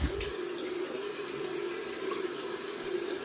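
A tap runs steadily into a sink to rinse off after a shave, a continuous close hissing stream with no speech.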